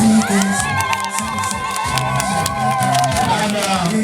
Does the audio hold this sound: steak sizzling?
no